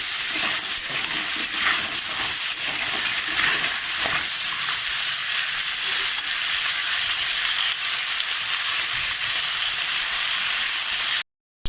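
Fish frying in hot oil in a wok, cooking for a Bengali crab curry, gives a loud, steady sizzle that runs unbroken for about eleven seconds before cutting off abruptly at the end.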